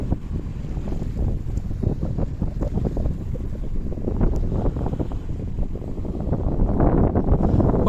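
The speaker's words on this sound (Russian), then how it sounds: "По крайней мере, ветер, волна в нужную сторону." Strong wind buffeting the microphone with surging waves slapping a small boat during a stormy lake crossing between islands, a steady loud roar throughout that swells toward the end.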